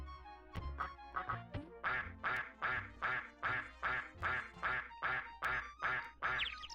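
Geese in the Pinocchio SNES video game honk in a steady series of about a dozen evenly spaced, loud, close quacks, with no talk over them.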